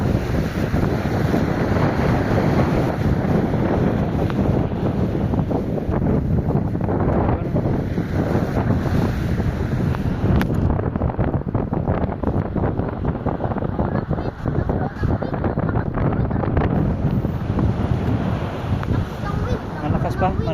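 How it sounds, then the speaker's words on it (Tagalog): Strong wind buffets the microphone aboard a boat at sea off Daku Island, Siargao, a constant loud roar mixed with engine and water rush, while people talk underneath. "malakas yung wind nga oh"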